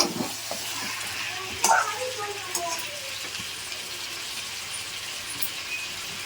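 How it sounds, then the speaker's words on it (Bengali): Food is stir-fried in a pan with a soft, steady sizzle and occasional stirring clinks, fairly quiet and close, with a voice speaking briefly at the start. "আমি কষিয়ে নেব"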